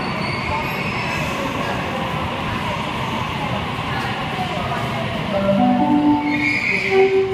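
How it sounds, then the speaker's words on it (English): A Sydney Trains A-set electric train departs the Town Hall underground platform with a steady rumble of wheels and motors. Rising whining tones build in the last seconds as it pulls away, loud and close in an enclosed station. "A26 departing Platform 6, Liverpool via Bankstown service."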